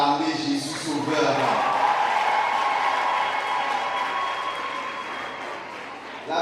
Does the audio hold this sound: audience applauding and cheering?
yes